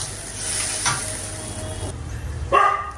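Onion and spices fry in a hot pan with salt, a steady close sizzle broken by a couple of sharp scrapes and clatters as a spoon stirs the mixture.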